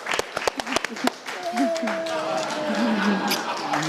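A studio audience on a daytime talk show gives a short burst of scattered, sharp handclaps for about a second, then the clapping gives way to people talking.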